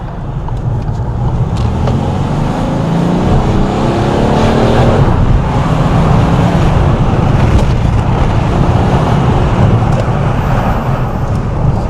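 A Peugeot 308 GT car accelerating, its engine a loud continuous roar that rises in pitch over the first seconds, steady and close throughout with no talk.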